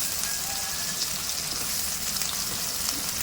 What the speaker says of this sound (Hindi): वो डाल देंगे और इसको अच्छे से मिक्स कर लेंगे